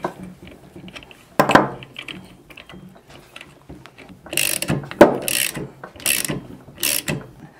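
Ratchet spinning a 14 mm fastener off the crank end of a Honda Hobbit PA50 II moped engine, loud close clicking bursts, one short burst followed by several longer rapid runs of pawl clicks.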